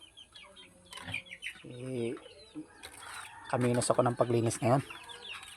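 Chickens cluck softly around a hanging water drinker, with short, scattered clucks and longer bursts close by as someone talks over them.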